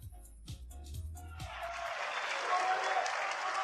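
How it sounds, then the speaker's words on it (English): A snooker crowd at the 2024 Shanghai Masters semi-final welcomes the players back to the table. A voice speaks briefly, then steady applause swells and carries on, fairly soft and distant. "Big cheer for the return of the players for the second half of this first session"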